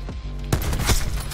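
A couple of sharp, loud gunshot cracks in a video game sound close by over a dense, steady wash of game background noise.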